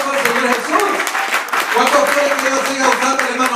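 A church congregation claps in steady applause under loud talk, the clapping dense and continuous throughout the short stretch.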